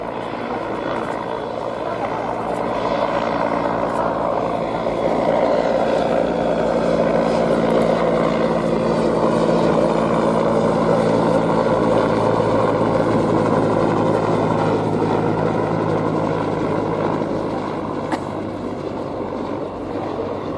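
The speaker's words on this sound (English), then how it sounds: "Getting airborne down to our right-hand end, coming to us courtesy of Andrew Whitehouse and his team at Lift West at Crew Kern, the Westland Whirlwind HAR-10." A Westland Whirlwind HAR-10 helicopter lifts off at the RNAS Yeovilton air show, its loud rotor chop and engine drone swelling and holding steady for many seconds, with voices talking underneath.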